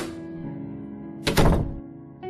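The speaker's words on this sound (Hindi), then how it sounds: "काफी बार प्रयास करने के बाद दरवाजा खुला।" A door is forced open after several tries, giving one heavy thunk and a short rattling burst against a quiet, humming room, with no voices.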